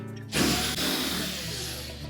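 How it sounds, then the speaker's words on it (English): A power driver backs out quarter-inch hex head mounting screws from the top of a GE washer cabinet, with a close, abrupt whir that starts suddenly and runs steadily for about two seconds. "Now next we'll remove these 2 mounting screws that secure that main top to the cabinet."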